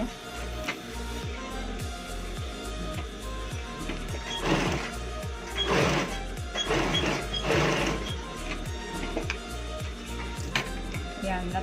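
A sewing machine stitches a fabric sling bag in a rapid, even mechanical ticking rhythm, with a few louder bursts of running stitches in the middle, close and continuous with no speech over it.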